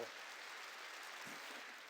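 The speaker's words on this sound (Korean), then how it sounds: "오늘 성가대 찬양이 아름답다고 생각하는 사람만 박수를 보내세요" A church congregation applauds softly and steadily, a faint, distant wash of many hands clapping that holds evenly for about two seconds without talk.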